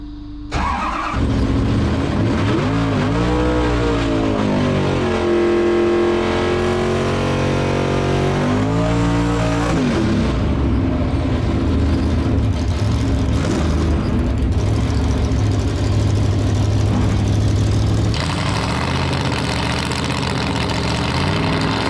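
Loud pulling-truck engine starting, then revving up and down in several rising and falling sweeps before settling into a steady heavy idle, close and continuous throughout.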